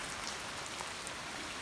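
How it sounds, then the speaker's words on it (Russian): Heavy rain pours steadily onto a 45° Click-Fałc PRO metal standing-seam roof, a dense, even hiss of drops with no pauses, close and moderately loud throughout. "судя по опуску, достаточно сильный дождь идет."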